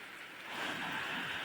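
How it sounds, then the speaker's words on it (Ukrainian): Gentle, light rain falling outdoors near a garden, heard as a soft continuous hiss that swells slightly midway. "знову такий тихенький, хороший дощик іде"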